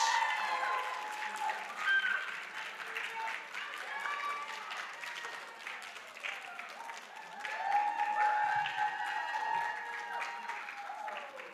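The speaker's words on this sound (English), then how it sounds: "give a big round of applause" Sustained applause from a crowd, steady clapping that swells and continues throughout, with a few whoops rising over it.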